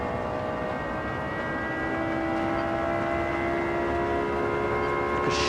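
A Lexus LFA engine in the Gran Turismo 7 video game howls at full throttle, a loud, steady high-pitched drone holding one pitch throughout, with no talk over it.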